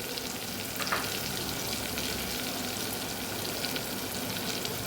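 Chutney and spices, with curry leaves and coriander, sautéing in a hot pan for a Kathiyawadi moong curry, a dense continuous sizzle and crackle with a faint stir partway through, close and steady.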